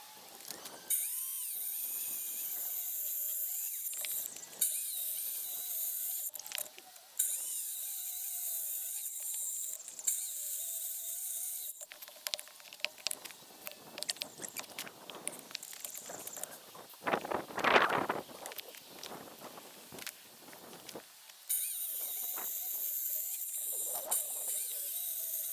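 Power saw cutting through concrete blocks on a barn build site, a loud continuous high-pitched grinding whine that rises and dips in pitch as the blade bites, with brief pauses and a harsher burst midway.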